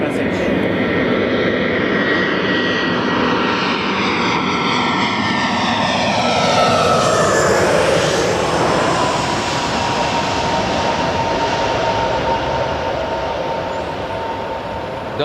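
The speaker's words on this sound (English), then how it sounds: "Delta 848, Airbus 319 from Portland, Oregon." Delta Airbus A319 jet airliner from Portland approaching Los Angeles International Airport, a loud, close roaring engine rumble with a sweeping whine that peaks as it passes overhead, then a steady roar, with faint voices beneath.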